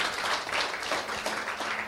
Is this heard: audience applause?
yes